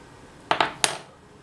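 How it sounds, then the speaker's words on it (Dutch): A spoon stirs salt into milk that has turned thick, striking the container in three quick, sharp clinks close by before the sound rings out into quiet. "dan doen we het even roeren, zodat ook daadwerkelijk overal zout zit"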